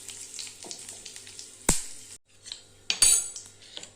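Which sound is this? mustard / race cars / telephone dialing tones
mustard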